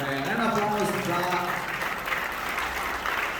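At a railway tunnel breakthrough ceremony between Maribor and Šentilj, an audience applauds the tunnel workers, a loud, steady burst of many hands clapping with voices and cheering mixed in.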